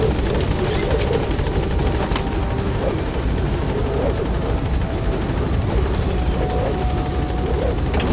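Support helicopter hovering at a landing zone in the video game Metal Gear Solid V, its rotor roar loud, steady and close throughout, with occasional distant gunfire-like thumps.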